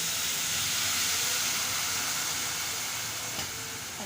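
Water is poured into a hot pan of cooking rice and sizzles in a loud, steady hiss. The hiss eases slightly near the end, and no one speaks.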